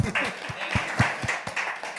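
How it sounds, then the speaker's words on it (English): A small group claps together in a steady patter of hand claps, with a voice talking over the applause. "Let's clap that up."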